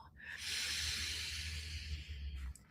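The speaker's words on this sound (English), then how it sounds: "We take a collective inhale, breathing in abundance." A long, soft breath drawn in during a guided breathing meditation, a quiet airy hiss lasting about two seconds, close and alone with no talk over it.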